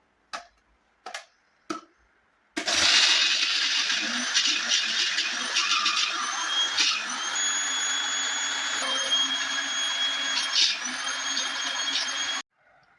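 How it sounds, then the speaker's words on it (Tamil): A kitchen mixer grinder blends cooked onion chutney in its jar. After three quick taps, the motor whirs loudly and steadily for about ten seconds with slight pulsing changes in pitch, then stops abruptly. "நம்ம மிக்ஸி ஜாரில் வந்து போட்டு எடுத்தாச்சு. இப்போ நம்ம வந்து அரைச்சி எடுத்துக்கலாம்."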